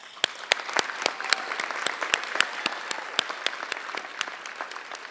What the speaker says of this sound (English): One last round of applause for this class, please.